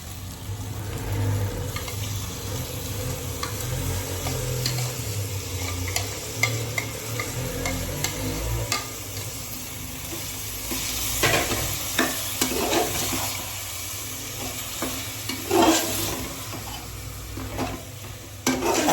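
Marinated paneer sizzling and frying in a pan, a steady close hiss with scraping stirring strokes and a few clinks of utensils against the cookware, no voices.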